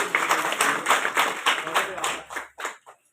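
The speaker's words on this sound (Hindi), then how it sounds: "जोरदार ताली बजाते" Audience at a women's empowerment awareness event breaks into loud clapping, a dense rhythmic burst of applause that fades out after about two and a half seconds.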